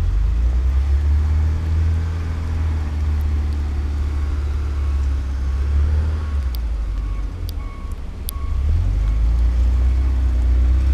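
A Porsche sliding sideways down a snowy winter road in a small New England city, with a low continuous engine rumble that swells and eases, fairly close, with no talking.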